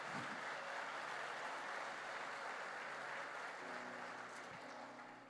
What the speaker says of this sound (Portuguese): Vamos dar um aplauso para o espírito,